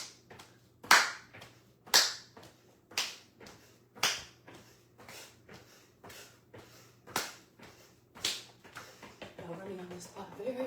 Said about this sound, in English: So next one, jumping jacks. Clap the hands over the head.